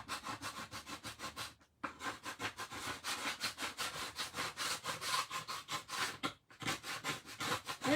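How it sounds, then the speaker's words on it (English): Shimmer being scraped off a magnetic bird cutout, a close, rhythmic rasping in quick back-and-forth strokes with two brief pauses, no talking. "we're going to scrape this first because that's got some shimmer on it"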